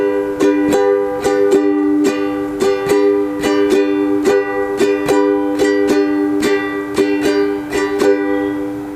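Ukulele played with a simple thumb strum, even chord strokes repeating at a steady pace, close, bright and continuous without any voice.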